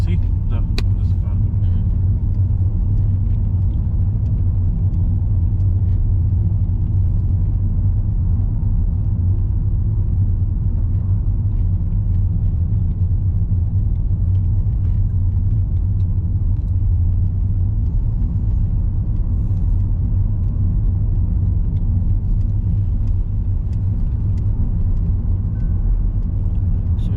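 A car on a road during a learner's driving test, heard as a steady, loud low rumble of engine and road noise from inside the vehicle, with a passing car blending into the drone throughout.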